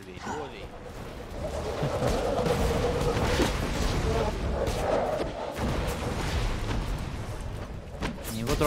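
Gunfire and thudding explosions from Borderlands go on steadily throughout, with players talking over the shooting.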